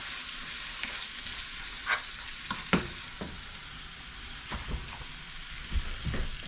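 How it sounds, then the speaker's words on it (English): Onions and vegetables sautéing in a pan, giving a soft steady sizzle with occasional scraping stirs, faint and close. "So here we go, guys, sauteing our veggies."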